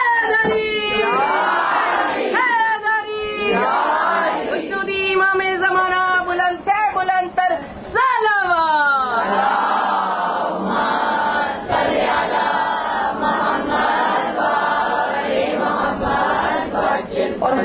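A crowd at a 7th Muharram religious gathering chants slogans together. Loud massed voices rise and fall in repeated phrases, sustained and close throughout.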